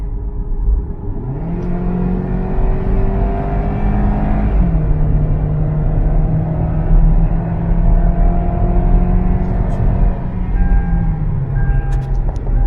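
A car engine revs up past 3,000 RPM, holding a steady, loud drone with a rising whine that climbs and then eases back down near the end, alone with no talk.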